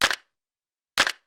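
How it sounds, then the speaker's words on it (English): A sharp snap clap drum sample from a hip-hop beat hits twice, about a second apart, with a third hit cut off at the end, each a crisp bright crack with a fast decay and silence between, alone. "He uses more of like a snap clap."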